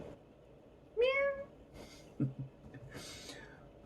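A cat meows close by, one clear rising meow followed by a short snort-like sound and a softer breathy second call, heard alone against a quiet room.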